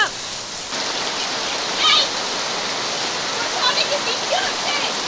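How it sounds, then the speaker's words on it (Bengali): Sudden rain pours down in a dense, steady roar, with a few faint voices and brief chirps rising above the downpour. "আবার এই দিক দিয়ে মনে করেন বৃষ্টিও শুরু, হঠাৎ করে বৃষ্টি"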